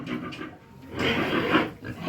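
A farm sow grunts close by in short, rough bursts, a few low snorts followed by a louder, longer grunting stretch with no talking over it.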